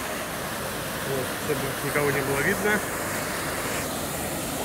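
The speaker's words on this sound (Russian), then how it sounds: "Вот водопад, водопад." Underground river waterfall in the log of Holy Creek on the Pinega, heard as a steady broadband rush of falling water filling the background throughout, with a person speaking over it.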